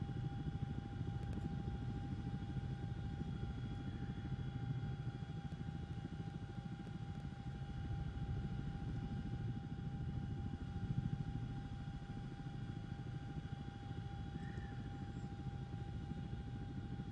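Chinook helicopter heard from inside in cruise flight at about 150 knots, a steady loud droning rumble of rotors and engines with faint constant tonal whines, no talk.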